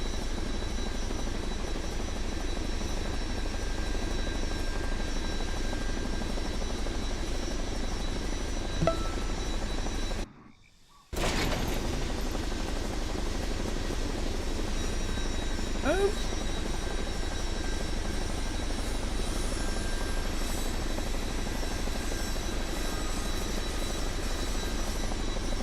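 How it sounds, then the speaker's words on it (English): An aircraft engine in Microsoft Flight Simulator 2024 drones in a steady, moderately loud whir, with a brief dropout near the middle before the hum resumes and continues evenly. "Look, you can hear the engine powering down"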